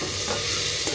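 Spiced red lentil (masoor) dal with a pinch of sugar is stirred in a pan for a short moment, giving a steady close scraping hiss with light sizzling throughout and no talk.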